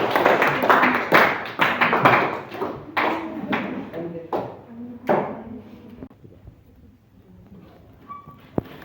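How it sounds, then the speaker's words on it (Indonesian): Scattered classroom clapping for a student group, a handful of nearby hands tapping unevenly and thinning out, with a teacher's voice over it. "Kita berikan tepuk tangan untuk kelompok 1."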